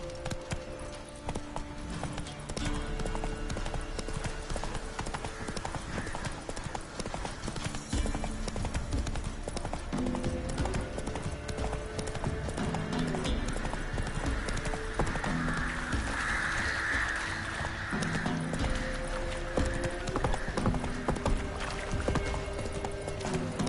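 Roach, Geralt's horse in The Witcher 3, gallops with a steady, loud clip-clop of hooves that runs the whole way through, over game music and ambient noise.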